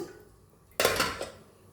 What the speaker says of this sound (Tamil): இப்போ தண்ணி ஊற்றிக்கலாம் டீக்கு